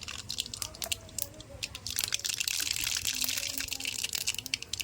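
Mustard seeds pop and splutter in hot oil in a kadai, a dense crackling hiss with scattered sharp pops, fairly close and moderately loud, with faint background hum.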